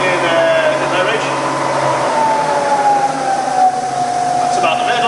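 A Bridgeport milling machine with a 48-inch table runs at low speed in low range, giving a steady, quiet mechanical hum with a faint whine that holds level throughout.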